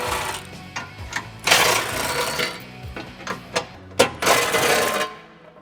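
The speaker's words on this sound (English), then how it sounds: "I've got an 18mm socket on my impact. This is only on by 4 bolts." An impact wrench with an 18mm socket zips bolts off a Jeep Wrangler JK transfer case skid plate, giving several short rattling bursts and one longer hammering run between quieter gaps.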